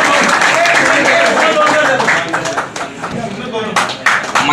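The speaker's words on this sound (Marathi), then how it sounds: "जोरदार टाळ्यांचा गजर झाला पाहिजे।" An audience claps together at a felicitation ceremony, a loud dense burst of applause that thins into scattered claps, with a voice speaking over it.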